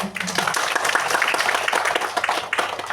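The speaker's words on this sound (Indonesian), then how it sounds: "Boleh tepuk tangan untuk Naturali Plus." Audience applause after a call to clap for Naturali Plus at a company management announcement, with steady dense clapping filling the whole stretch while a voice talks over it briefly at the start.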